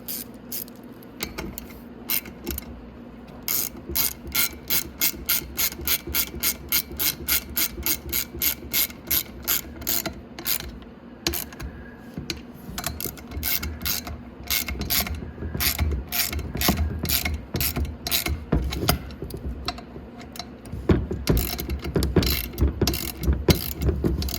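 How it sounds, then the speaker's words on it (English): A hand ratchet clicks quickly and steadily up close as it tightens bolts on the rear swing arm of a Venom 125cc Grizzly ATV, in long runs of even ticks with brief pauses and a heavier, busier stretch near the end. "And just tighten them down."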